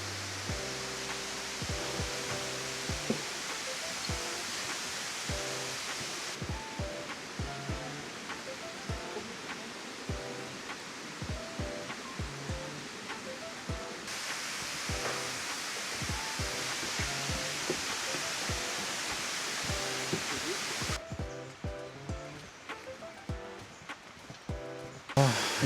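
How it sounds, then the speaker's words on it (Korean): A waterfall, heard from its highest point where the water has been set up as a play area. It gives a continuous, even roar of rushing water that fills the whole stretch and stays loud and steady for about twenty-five seconds. "여기가 폭포 가장 높은 곳인 것 같은데"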